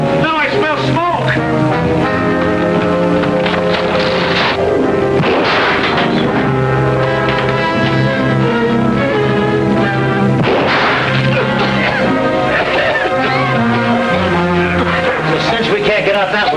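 Gunfire cracks and booms in an old film's soundtrack, loud repeated shots and crashes amid a fire scene, mixed with dramatic orchestral music throughout.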